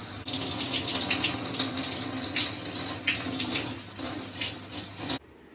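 Shower water runs steadily with a broad hiss and splashing, close and continuous, then cuts off abruptly near the end.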